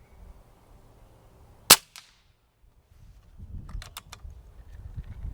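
A BroCock Sniper XR Magnum air rifle fires a slug as a single sharp, loud crack, followed by a brief faint echo, then a quiet stretch and a few light mechanical clicks over low outdoor rumble.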